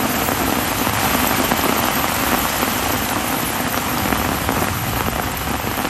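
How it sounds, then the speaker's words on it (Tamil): Heavy rain pours down steadily in a dense, continuous roar that stays loud for the whole stretch, with no voices over it, during an hour-long downpour in the Thoothukudi district area. "1 மணி நேரத்திற்கு மேலாக கொட்டி தீர்த்த கனமழையால் குளிர்ச்சியான சூழல் நிலவத் தொடங்கியது"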